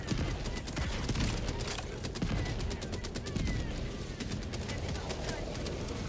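Mortar and gunfire from a Helldivers battle rumble continuously through the whole stretch, with dense bursts of blasts and shots up close and loud under ongoing game noise.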